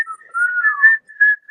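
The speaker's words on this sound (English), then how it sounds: "Y'all sound like broken whistles." People whistling in short wavering melodic phrases, loud and close, with brief gaps between notes and no talk.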